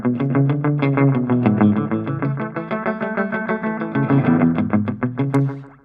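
Rockabilly electric guitar picked in a quick, steady rhythm through a heavy tape echo set fully in the mix, each note trailing slapback repeats, loud and alone without talk.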